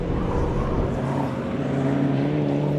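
A Mitsubishi Evo VIII MR rally car goes by on a track with a sustained engine drone and rising and falling tones, heard loud and fairly close.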